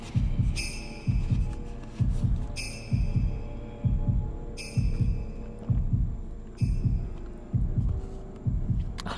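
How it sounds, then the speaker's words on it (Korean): A character's heartbeat in the Japanese horror video game Shadow Corridor beats in a steady, regular rhythm of about nine thuds over a low hum. Faint high ringing tones come and go between some beats, and no one talks over it. "아, 저거 제 심장 소리라고요?"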